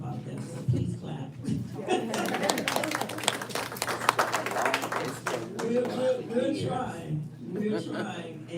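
Audience applause and clapping at a city event, with chuckles and laughter mixed in, sustained over several seconds beneath a general crowd murmur, rising in the middle and tapering off toward the end.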